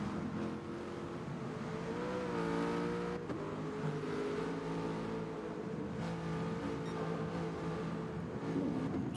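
Race cars in GT Sport lapping the Red Bull Ring, a continuous, loud layered engine drone with several cars' pitches rising and falling together as they accelerate, with no commentary heard.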